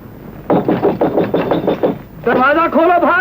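Two sadhus knock on a wooden door at night in rapid, steady raps, then a voice calls out loudly over the last of the knocking.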